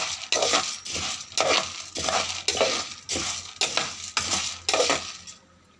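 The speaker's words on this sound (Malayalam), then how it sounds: "കാപ്പി ഇട്ട് നന്നായി വറുത്തെടുക്കുകയാണ്." Coffee beans rattle and scrape against a clay roasting pan with a small hole in it as they are stirred in regular strokes about every half second, loud and close, fading at the end.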